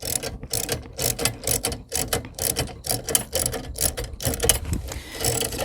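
A hand tool clicks and ratchets steadily while a nut is run up a threaded rod during assembly of a Chapin 8400C spreader, giving rapid, close, even mechanical clicks.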